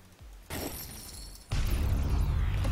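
Electronic EMP attack effect in the strategy game Offworld Trading Company: a sudden burst of broadband noise that jumps up midway into a louder, rumbling crackle, heard alone without talk.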